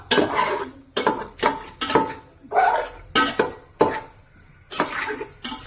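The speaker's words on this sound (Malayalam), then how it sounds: "നമുക്ക് കുറച്ചും കൂടി ഫിഷ് മസാല ഇട്ട് എന്നിട്ട് നമുക്ക് കുറച്ചും കൂടി നല്ലോണം ഇളക്കി എടുക്കാം" Fish masala being stirred in a pan for a kingfish biryani, with repeated scraping and clattering strokes of a utensil against the metal, about eight distinct bursts in a steady rhythm, close and fairly loud with a faint sizzle beneath.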